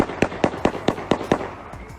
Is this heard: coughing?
no